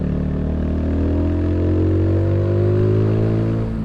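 A 2021 Mutt Mongrel motorcycle accelerating in second gear, close and loud, its engine note rising smoothly and steadily in pitch without stutter.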